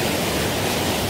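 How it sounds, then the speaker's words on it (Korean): A waterfall in Jirisan's Baemsagol valley pours a great volume of water, giving a loud, steady, close roar of broadband rushing with no voices. "안고 쓸고 내려가버릴 엄청난 양의 물이 쏟아지고 있습니다."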